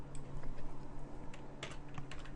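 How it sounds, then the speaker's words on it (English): Quick run of clicky keystrokes typing on a computer keyboard, close and fairly loud, with no talk. "Why don't I just type it in?"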